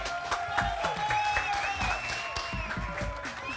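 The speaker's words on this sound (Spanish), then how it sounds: "Vamos a darle un aplauso fuerte al entrenador de los Cholos de Tijuana, César Farías, y a su director deportivo" Studio audience applauding to welcome coach César Farías and sporting director Ignacio Palou onto a sports talk show set, a steady mid-level wash of clapping and some cheering with voices mixed underneath.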